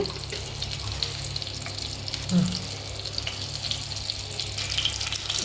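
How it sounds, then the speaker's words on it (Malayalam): Mustard seeds sizzle and crackle in hot coconut oil in a pan, a steady close frying hiss with a few faint pops and no talking. "കുറച്ച് വെളിച്ചെണ്ണ ഒഴിച്ചു ഇനി നമ്മൾ അതിലേക്ക് കടുക് ഇട്ട് കൊടുക്കുകയാണ്"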